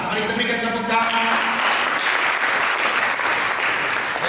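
Church congregation applauding after a sermon passage, steady dense clapping filling the whole stretch, loud and sustained, with a voice briefly audible at the start.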